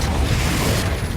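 A Confringo blasting-spell explosion from Hogwarts Legacy bursts as a loud, dense, rumbling roar that fills the whole moment without a break.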